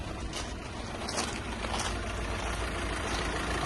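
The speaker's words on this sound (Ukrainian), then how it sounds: "двигун працює ідеально. Це у нас 2 літр дизель, 160 кінські сили, 120 кВт." A 2016 Volkswagen Crafter van's 2-litre, 160-horsepower diesel engine idles steadily, giving a continuous, even rumble with broad mechanical noise and no voices over it.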